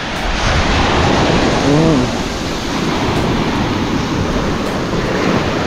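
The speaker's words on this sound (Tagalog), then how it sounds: "Ang lakas ng alon." Strong ocean surf breaking on a beach shore: a loud, continuous roar of crashing waves with heavy wind buffeting the microphone, close and unbroken throughout, with no voices over it.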